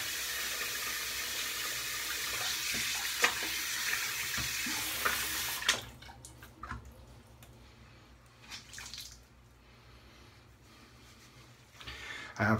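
Running water from a tap with splashing as hands wet the face before a shave, steady at first and then breaking into softer, intermittent splashes and drips.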